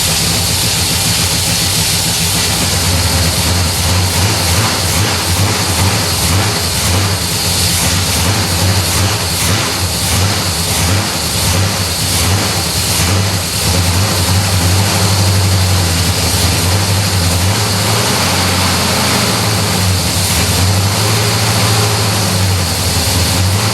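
A Pontiac 455 V8 in a LeMans runs rough and refuses to idle, a loud, continuous, uneven roar with wavering pitch that fills the whole stretch, up close with no talk.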